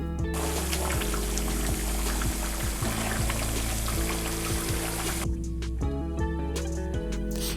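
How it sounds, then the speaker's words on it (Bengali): A steady, continuous pour of mixed coconut milk and sour yogurt into a kadai while making chicken malai curry, with the liquid gurgling and splashing close by over background music. "নারকেলের দুধ ও টক দই, একসঙ্গে মিশিয়ে কড়াইতে ঢেলে দিয়েছিলাম"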